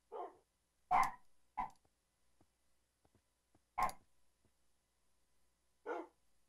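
Two tamed dogs in a dark Minecraft world give a few sharp separate barks, spaced irregularly and fairly close, with quiet gaps between them.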